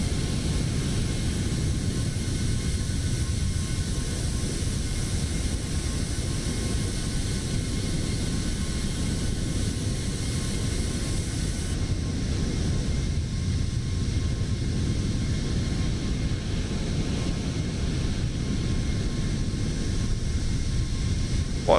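Airliner climbing out of Seattle in Microsoft Flight Simulator, a continuous steady engine roar and broad cabin rumble with a faint thin tone, unchanging throughout, no talking.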